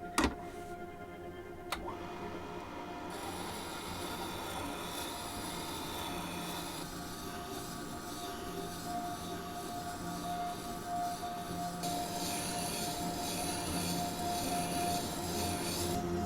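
A sharpening machine grinds a hand plane iron held in a square edge jig on a coarse stone, giving a steady whirring motor hum and continuous abrasive grinding throughout.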